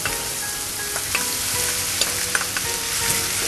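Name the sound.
stir-frying baby clams with Thai sweet basil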